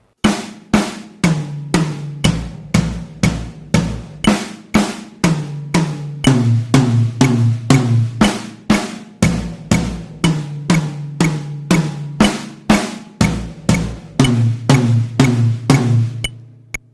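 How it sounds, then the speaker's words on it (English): Drum kit playing a steady run of 8th note fills and beats, sharp evenly spaced hits cycling between drums with a repeating pattern, loud and close, no talking. "it will be a combination of the first 2 8th note drum fills"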